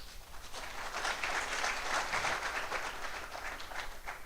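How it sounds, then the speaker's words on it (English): An audience at an inaugural university lecture applauds at length, the clapping a steady, moderately distant wash that swells in the middle and fades slightly toward the end. "Clap for that, again, please."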